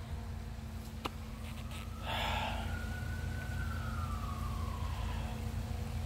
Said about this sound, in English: there's a bunch of leaf blowers and sirens going off right now